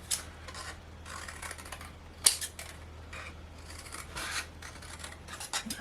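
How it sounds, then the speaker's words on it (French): Small cardboard tabs for an Easter box are bevelled with repeated close scraping and rasping strokes in uneven rhythm, with a sharp tap partway through and no talk. "Je biseaute uniquement ce que je viens de couper là"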